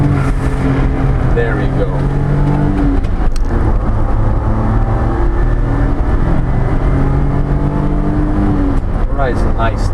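A 1988 Honda Acty SDX HA1 kei mini pickup truck accelerating hard in third gear through a corner, its small engine revving loudly and continuously with shifting pitch, while a voice talks briefly over it.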